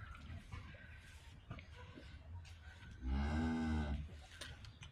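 A calf on a farm lets out one loud, drawn-out moo of about a second, close by, following quieter background sounds and soft movement.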